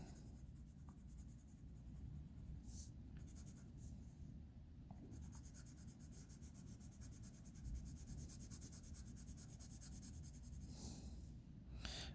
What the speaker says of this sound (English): I can create my value fairly quickly using a wooden pencil